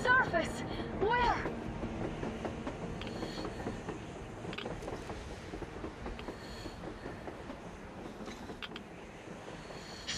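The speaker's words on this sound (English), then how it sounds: "A damn train on the surface!" A train running on the surface in the Metro Exodus video game, a rumbling, clattering rail noise with metallic screeches early on, steady at moderate level under game sounds and brief character speech.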